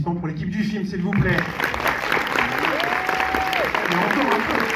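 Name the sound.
audience applause for film team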